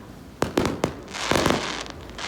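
Fireworks burst over a beach about a hundred yards off, a handful of sharp cracking pops in quick succession over a low, steady background hiss.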